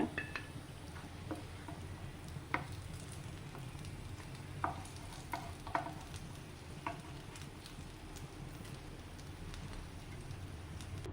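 Plantain slices fry in hot oil with a faint, steady crackling sizzle and occasional light clicks of a utensil, with no voices.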